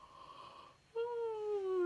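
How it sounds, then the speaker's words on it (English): A vocal yawn during a singing warm-up, a breathy sigh followed by a voiced, gliding tone that slowly falls in pitch, quiet and close. "One more yawn."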